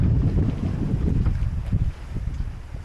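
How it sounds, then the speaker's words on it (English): Strong wind at sea on a sailboat crossing the Pacific, a loud continuous rushing roar buffeting the microphone, with gusty low rumble that eases slightly toward the end. "This wind has kept up 2 days now more than forecasted."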